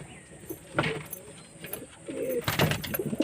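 Pet pigeons kept in pairs at home coo in a few throaty, rolling calls, near and moderately loud over background noise, with the calls coming more thickly toward the end.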